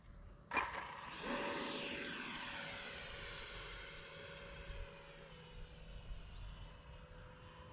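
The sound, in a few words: small RC jet plane flying overhead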